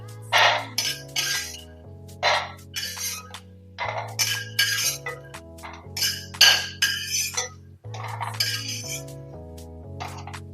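One cup of well-roasted peanuts is moved from the pan onto a plate, giving a run of sharp clinks and scrapes in uneven bursts over steady background music.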